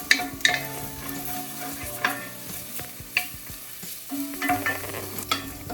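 Pancetta frying in a pot as its fat renders, a soft steady sizzle broken by scraping stirs and clinks of a utensil against the pot, close and moderately quiet with no speech.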